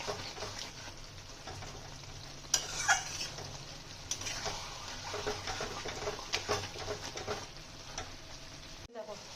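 Kasuri methi chicken sizzles and fries in a pan while a spoon stirs and scrapes it, with soft clatter and crackling throughout and a sharper scrape near the end, quiet and close.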